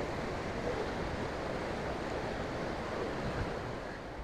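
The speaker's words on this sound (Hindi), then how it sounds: "उधर भी डैम का पानी और आगे से भी ओवरफ्लो हो रहा है सारा।" Dam water overflowing beside Kundalshahi Waterfall in the Neelum Valley of Azad Kashmir gives a loud, steady roar of rushing water with no pause, heard alone.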